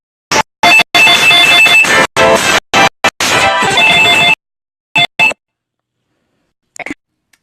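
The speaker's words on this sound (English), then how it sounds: "phone calls coming in while I'm trying to talk to you guys" A telephone rings with an incoming call during a home talk, loud bursts of ringtone repeating in an irregular pattern for several seconds, then a few short trailing tones before falling quiet.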